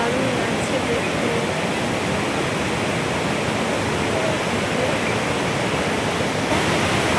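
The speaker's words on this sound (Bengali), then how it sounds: "কত জোরে জলের শব্দ।" A river rushes loudly near Jogighat in Sittong, a dense, steady roar of fast-flowing water that stays even and unbroken throughout with no talking.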